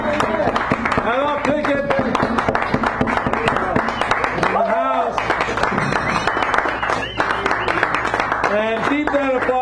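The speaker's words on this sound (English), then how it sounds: "keep that applause going" Applause at a poetry hour in a San Francisco cafe, continuous close clapping mixed with voices and cheers, while someone talks over it throughout.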